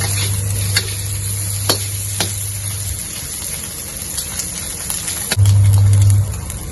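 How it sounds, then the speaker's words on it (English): Roast pork fries slowly in a pan over low heat, a soft steady sizzle with a few sharp clinks of a utensil against the pan and a low hum near the start and end. "Slowly fry the roast pork"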